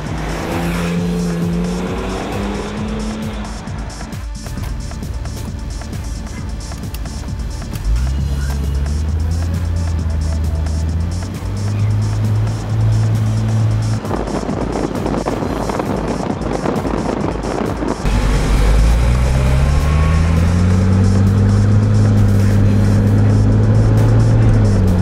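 A Porsche Turbo driving hard, with a loud engine roar that climbs in pitch through the gears, revving repeatedly and swelling near the end, alongside faint tyre noise.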